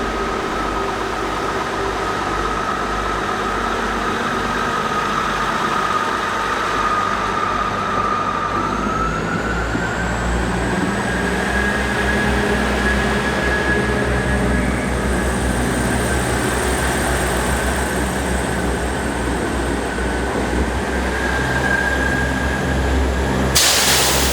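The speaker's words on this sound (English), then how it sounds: "This is the Class 159 operated by South Western Railway." A South Western Railway Class 159 diesel train at Clapham Junction gives off a loud, continuous rumble with a steady hum, and a tone that rises partway through, heard alone with no talk.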